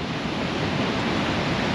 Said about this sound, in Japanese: あ、滝だ、滝になってる。